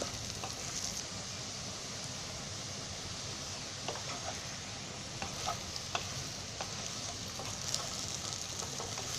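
Fenugreek leaf vegetable rolls shallow-fry in a little oil, making a steady, even sizzle throughout with occasional faint clinks and scrapes from stirring, and no voices.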